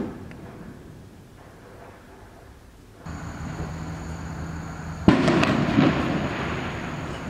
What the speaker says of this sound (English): The fireworks have not stopped.